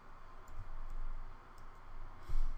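Typing on a computer keyboard while entering a network switch configuration command, a faint run of soft clicks and taps over low background hum, with no voices.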